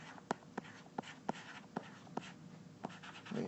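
Marker or chalk writing numbers on a board during a physics lecture, heard as a series of crisp, sharp taps and short strokes spaced irregularly, close and fairly quiet, with no talking.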